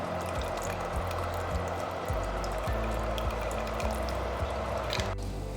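Vinegar pours into a brisket sauce, heard as a steady trickling splash with faint clicking and rattling underneath that stops abruptly near the end.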